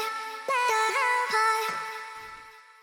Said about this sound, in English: So the vocal chops alone sound like this.